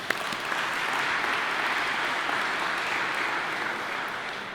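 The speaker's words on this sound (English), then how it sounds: "so we'll give all of those great people a quick round of applause." An audience in a school gym gives a quick round of applause for event caterers and sponsors at a canal festival media launch, a steady, dense wash of clapping held evenly at moderate distance with no talking over it.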